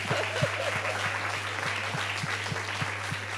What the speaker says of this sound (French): On l'applaudit encore bien fort, Kael, s'il vous plaît.